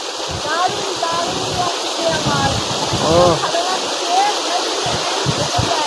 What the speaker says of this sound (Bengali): ঝর্নার বিশাল উঁচু থেকে ঝর্নার জল আসছে